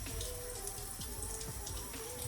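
Tap water runs steadily into a sink while jewelry from a nose piercing is rinsed under it, a close, continuous splash with small shifts in the flow and no one talking.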